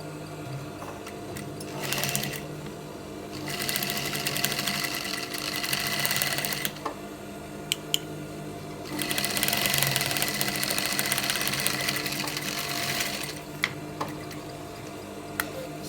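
A sewing machine stitches corset fabric in two steady whirring runs of a few seconds each, close and even, separated by a quieter pause with a few small clicks and no speech.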